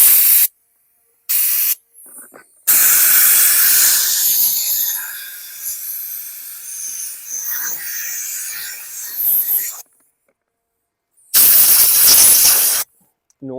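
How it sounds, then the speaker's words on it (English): Compressed air blasts into a lawn mower gas tank on a 2018 Murray walk-behind mower in loud, hissing bursts, several long sprays broken by short silences, close to the microphone. "I'm going to blast out the gas tank with some compressed air just to get any of that moisture that may be in here"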